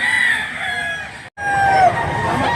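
A gamecock crows over a constant noisy background, with some clucking from nearby fowl.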